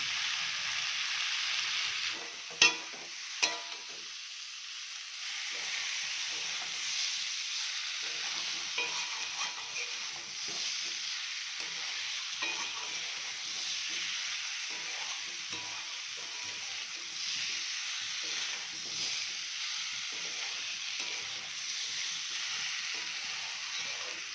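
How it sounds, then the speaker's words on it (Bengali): Potatoes and spices for dhokar dalna fry in a pan, giving a quiet, even hiss with faint crackles, two sharp clinks early on, and no voices. "আলু আর মশলাটা যতক্ষণ কষানো হচ্ছে"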